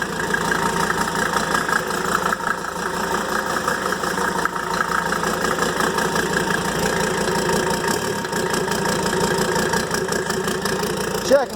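A freshly rebuilt Mercedes OM617 diesel engine runs steadily at a lumpy, eager idle, with a continuous close-up clatter and a brief swell near the end; no one talks.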